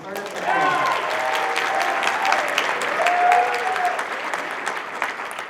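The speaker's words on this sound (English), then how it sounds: "Why don't we give these students a full round of applause for making senior districts this year" Audience applause in a school auditorium at a high school winter concert, steady and moderately loud throughout, with voices mixed in the crowd noise.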